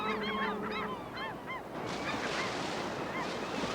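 Several harsh seagull calls repeat in the first half over steady river or wind noise, along the McNeil River, then the birds fade under a constant wash.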